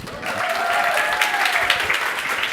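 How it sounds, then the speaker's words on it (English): An audience at a design talk on Web3 applauds a speaker being introduced, steady, full clapping from a sizeable crowd lasting a couple of seconds. "So give him a round of applause."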